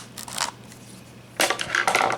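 Scissors snip and crunch through the plastic shrink wrap on a Blu-ray case, two bursts of crinkly cutting separated by a short pause, close and fairly loud.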